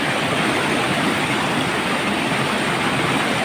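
Loud, steady rushing flood water roars without a break, like a strong torrent flowing nearby.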